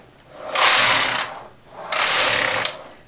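Circular selvage being knitted on a domestic knitting machine with main bed and ribber at a slightly loosened tension: two near, loud swishing carriage passes, each about 0.7 s long, separated by a brief pause.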